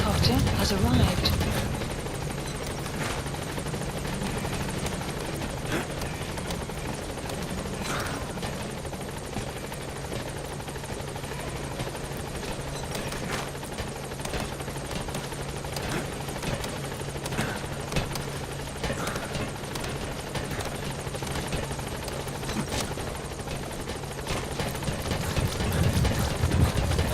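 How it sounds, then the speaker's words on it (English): A support helicopter in Metal Gear Solid 5 hovers and arrives at a landing zone, a loud continuous rotor thrum with chopping beats that swells near the end, with a voice speaking briefly over it. "Support helicopter has arrived."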